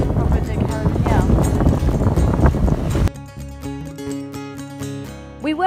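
Sailboat under way in a breeze, with wind rushing over the microphone and water noise for the first half, then a quieter stretch where a voice talks over faint background sound.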